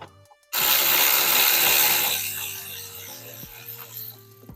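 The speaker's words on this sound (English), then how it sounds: "You got two bolts here, which are the 7mm. Go through and zap these off." A power tool spins off 7mm bolts under the dash of a 2015 Chevrolet Silverado. It gives a sudden loud whirring burst that winds down over a couple of seconds, followed by a few faint clicks and ratcheting.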